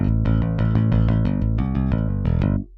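Chunky, driving heavy metal bass guitar riff from Toontrack EZBass, played clean, with rapid picked notes in a tight rhythmic groove that stops abruptly near the end, no voices.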